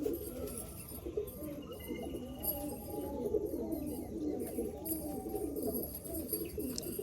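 Pigeons kept for sale at a bird seller's near Kalyanpur rail station in Baruipur coo repeatedly in soft, rolling low calls, several birds overlapping close by with no talking.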